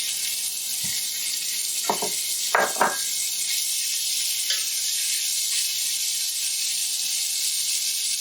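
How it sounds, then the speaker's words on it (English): Meat for a white bolognese dropped into a hot pan, giving a steady loud sizzle with a few scraping stirs and clatters early on, then continuous frying hiss on its own. "So let's add in the meat."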